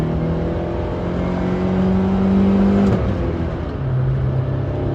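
Loud, close car engine revving hard through the gears, with a rising steady drone that dips briefly around the sixth shift before climbing again, heard alone without talk.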